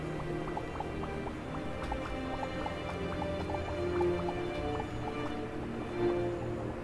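Water ambience in the video game Starbound while the character is submerged, with a muffled low drone and a steady run of small dripping, bubbling plinks spread through the background.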